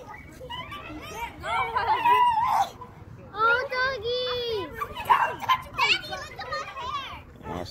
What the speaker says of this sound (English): Look at his doggies!